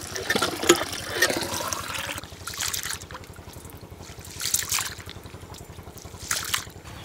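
Soaked grains for uthappam batter are washed in water, with bursts of sloshing and splashing broken by quieter pauses, close and fairly loud over a steady low background hum.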